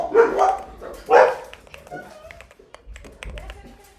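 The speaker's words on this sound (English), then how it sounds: "Sorry for the barking" Dogs indoors give two loud barks close by in quick succession, then quieter yips and whimpers, with keyboard typing clicking in the background and a person speaking.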